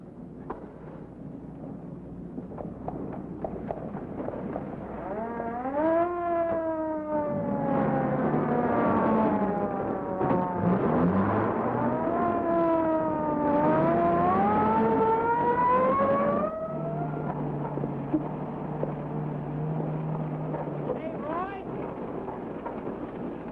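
A sheriff's patrol car siren on a 1950s western TV show wails in repeated rising sweeps over a rumbling engine, then drops to a steadier low drone as the car drives on.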